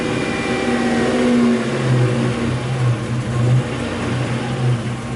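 A Buick Grand National engine runs rough and misfires, its steady drone wavering and stumbling in pitch, heard close with no talking.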